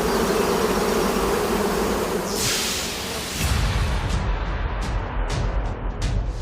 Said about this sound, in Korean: 윙윙 귓가를 울리는 소리. 산속에 가득 울려 퍼지는 꿀벌들의 날갯짓.